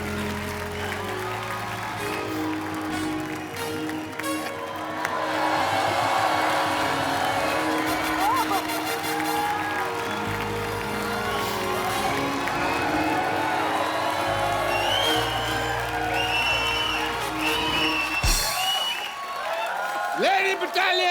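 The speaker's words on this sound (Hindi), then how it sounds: "जोरदार तालियां शाहरुख भाई" A large crowd applauds and cheers for Shah Rukh Khan, a sustained wash of clapping and whoops running steadily underneath music and an amplified voice before fading out near the end.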